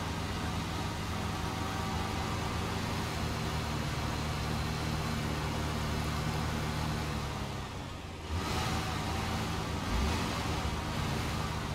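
A truck engine idles steadily and close in the Snowrunner game while a fuel trailer is parked on a flat roadside verge, a continuous low rumble with a brief dip near the end.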